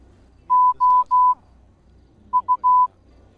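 Morse code beeping in the GTA video game during a burglar alarm call at a house: three steady tones, a pause, then three more shorter beeps, loud and clean with no talking.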